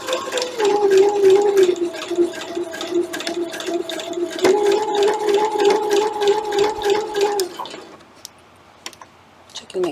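A sewing machine stitches a quilt block seam at a slow, careful pace, its steady mechanical whir running for about eight seconds with a brief pause midway, then stopping into near quiet with faint handling sounds.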